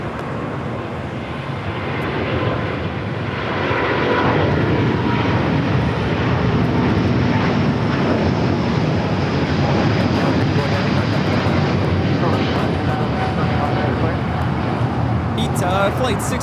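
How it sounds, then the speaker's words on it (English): An Airbus A350-900 takes off from LAX bound for Rome. Its engine roar builds after a few seconds, then holds as a loud, broad, continuous rush. "Flight 621 taking off to Rome, Italy on the A350-900"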